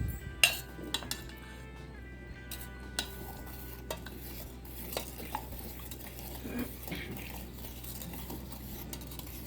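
A spoon stirs sugar into about 1.5 litres of thick milk in a pan, with soft scraping and occasional clinks of metal against the pot, fairly close and steady with no talk.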